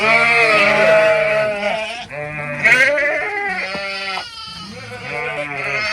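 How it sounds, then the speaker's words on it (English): Several sheep bleat loudly and repeatedly at close range in a farm pen as they are called over with a 5-gallon bucket, their wavering cries overlapping almost continuously with no speech between them. "Come on, sheep, sheep."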